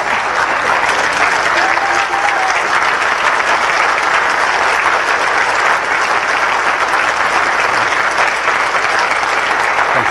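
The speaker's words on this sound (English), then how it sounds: "let's go ahead and give them a round of applause" A congregation gives a loud, sustained round of applause for a Haiti water charity group, an even roar of many hands clapping without letup.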